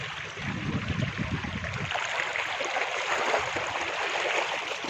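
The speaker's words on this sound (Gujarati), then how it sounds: "આટલો પાણીનો પ્રવાહ આવે છે." Floodwater runs as a strong, steady stream after heavy rain near Vanthali, a continuous close rushing gurgle that holds level throughout with no voices.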